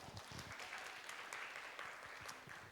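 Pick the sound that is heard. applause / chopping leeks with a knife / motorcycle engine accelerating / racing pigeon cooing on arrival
applause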